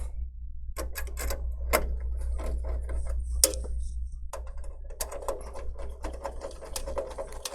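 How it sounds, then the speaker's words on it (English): Small screw being driven into a CPU heatsink fan on a GIGABYTE H610M motherboard, heard as dense clicky ticks and scrapes over a steady low hum, close and moderately loud. "Go ahead and put the screw in."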